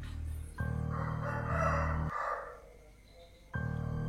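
A rooster crowing in the early morning around four o'clock, two long loud crows in close succession, near and clear, followed by another crow beginning at the end, with no talking.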